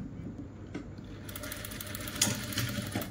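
An electric sewing machine hums at a steady pace, stitching palazzo pant fabric. The quiet whir starts softly and grows slightly fuller, with faint needle ticking and no talk.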